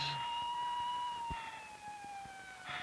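An ambulance siren wails, sweeping slowly downward in pitch, steady and fairly distant, with faint background rumble and a couple of soft thumps.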